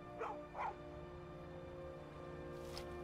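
A dog in the video game Skyrim gives two quick soft barks close together, then one more a couple of seconds later, over a low in-game ambient background.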